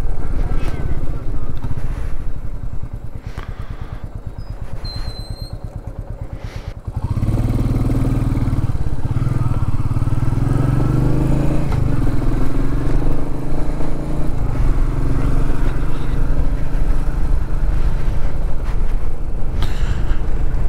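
Royal Enfield Meteor 350 motorcycle engine running steadily during a ride, a constant low rumble that grows louder and fuller partway through, with a voice talking over it.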